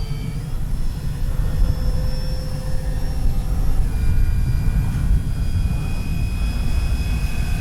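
An E-flite Beechcraft D-18 twin-engine RC model airplane drones steadily overhead with a continuous buzzing whine in windy outdoor conditions, its pitch shifting slightly as it passes.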